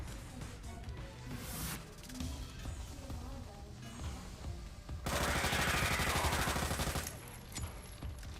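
Pistol gunfire in a video game, rapid repeated shots forming a dense crackling burst that swells loud in the middle, set over constant game noise and background clatter.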